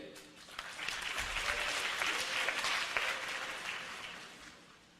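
An audience at a high school graduation ceremony claps together for several seconds, a dense, even patter that swells slightly and then tapers off.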